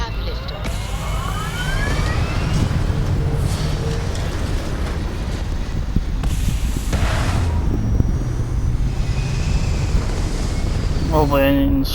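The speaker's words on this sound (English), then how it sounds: "We have liftoff." A spaceship lifts off in the video game Starfield with a sustained, loud, rumbling roar like wind, holding steady throughout, while someone talks over it.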